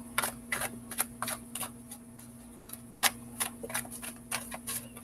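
Tarot cards riffle and snap in quick, uneven bursts, close and crisp, with short pauses between shuffles over a faint steady hum.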